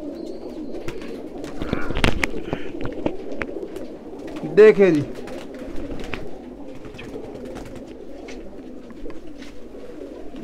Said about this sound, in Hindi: कबूतरों की बहार लग गया, कबूतरों का मेला।